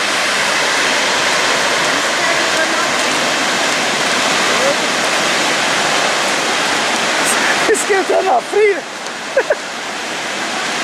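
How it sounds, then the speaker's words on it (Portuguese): Water rushes out near a waterfall in a loud, steady broadband roar that fills the whole clip, with voices talking briefly over it toward the end. "Olha quanta água saindo. Olha o barulho. Tem muita água saindo ali"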